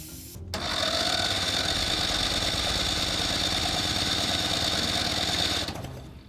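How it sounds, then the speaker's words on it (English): Car engine being turned over by the starter with dirty spark plugs, a steady buzzing whir that starts abruptly, holds evenly for about five seconds and then stops, with no talk. "All right, I'm gonna turn the engine a bit."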